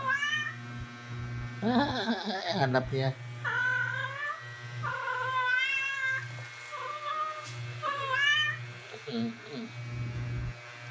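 Two pet house cats meow repeatedly at home, with several drawn-out, rising and falling meows close by, mixed with someone talking over and between them.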